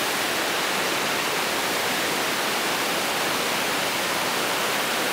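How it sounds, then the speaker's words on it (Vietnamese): Thác Mây waterfall in Thanh Hoá roaring as a steady, dense broadband rush of falling water, loud and continuous throughout with no voices over it. "Wow, những thác nước"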